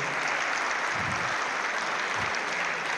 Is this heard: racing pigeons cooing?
no